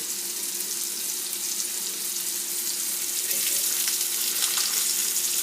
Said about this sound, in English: let the butter melt and render off